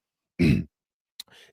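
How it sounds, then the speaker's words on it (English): A man gives one short, rough cough up close, followed a moment later by a faint breath or throat sound during a live sports broadcast. "Sorry about that. I was coughing."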